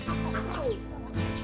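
A hen clucks softly and repeatedly, close by, with low steady murmuring calls and no talking.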